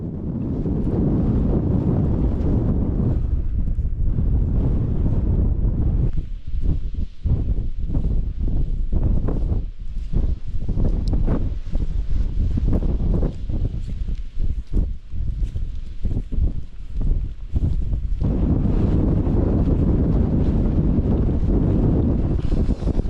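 Strong, steady wind on Meall Chuaich mountain at about 650 metres buffets the microphone throughout, a loud roaring rumble with gusty fluctuations and brief drops in the middle.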